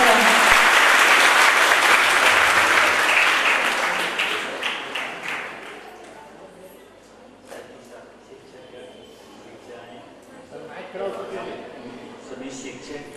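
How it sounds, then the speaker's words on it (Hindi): Loud sustained applause from a crowd at a school golden jubilee celebration, strongest at first and then fading into scattered claps and voices. "जोरदार से तालियां करिए।"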